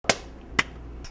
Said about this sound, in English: Those are fish claps.